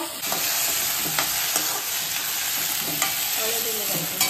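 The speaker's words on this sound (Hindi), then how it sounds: "तडका हो बेजिकली फोडणी घातला तेणी हांगासर" Mustard seeds and spices crackle and sizzle steadily in hot oil for a Goan Konkani tempering in a home kitchen, a dense continuous frying hiss with small pops and a few stirring scrapes throughout.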